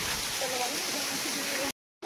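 The Dabarkol waterfall in Odisha gives a steady broadband rush of falling water, loud and continuous, then cuts off abruptly near the end.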